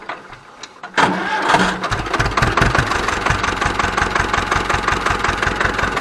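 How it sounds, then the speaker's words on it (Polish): An Ursus C-325 tractor's engine cranks and catches after a quiet moment, then settles into a loud, steady, rhythmic diesel idle close by. "Odpalamy ciągnik."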